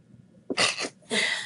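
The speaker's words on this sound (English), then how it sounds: "Excuse me, I'm going to sneeze." A single close sneeze, a quick sharp intake followed by two bursts of breathy expulsion, loud and alone.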